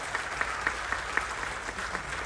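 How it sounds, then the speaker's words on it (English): An audience aboard a cruise ship at sea gives a round of applause during a vlogger hosts' meet-and-greet Q&A, a dense even patter of clapping with a few louder claps popping out at a steady rhythm. "So give them a round of applause as well,"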